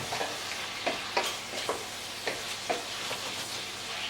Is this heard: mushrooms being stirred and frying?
yes